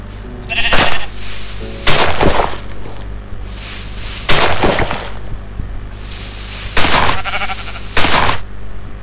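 Loud sheep bleats from a black sheep in Minecraft repeat every second or two, about six calls, over a low steady background hum.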